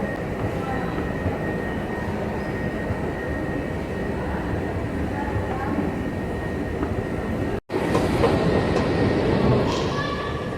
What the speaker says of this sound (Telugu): Chavadi Bazar metro station gate number 2,